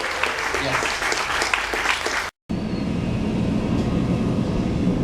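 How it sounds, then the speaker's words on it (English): Passengers aboard the American Queen steamboat break into lively applause mixed with voices, then after an abrupt cut a loud, steady low rumble takes over. "Give her a big round of applause."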